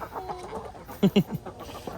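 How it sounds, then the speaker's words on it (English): Chickens cluck nearby, a couple of short, louder clucks standing out among softer scattered clucking and rustling. "let's get the chickens out of this area"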